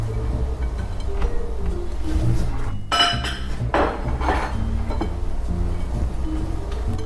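Clinking and scraping of a spoon stirring one-pot lasagna ingredients with parmesan and mozzarella in a pot, a steady run of close metallic clatter with a louder burst midway, no talk.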